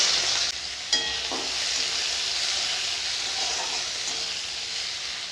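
Chopped onion, dried red chilli and nigella seeds fry in hot oil in a kadai, giving a loud, steady sizzling hiss with a few brief clatters near the start, and no talk.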